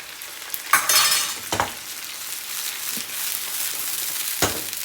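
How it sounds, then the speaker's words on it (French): Ndolé with bell peppers and prawns cooks in a pot, giving a soft hiss of sizzling with a few scraping stirs of a spoon, heard up close and without talking. "Et je vais laisser mijoter pendant 5 à 10 minutes maximum."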